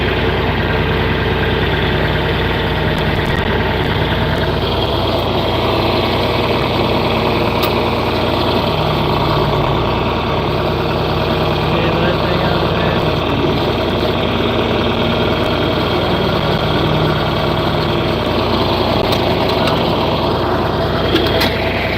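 A hot-wired farm tractor's engine idles steadily and close by, a continuous droning rumble with no break across the whole stretch and no voices.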